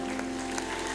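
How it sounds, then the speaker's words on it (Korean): Applause from a church congregation during a Sunday worship service, a dense steady wash of clapping heard alone over a faint hum. "우리 하나님께 영광의 박수 올려드리겠습니다."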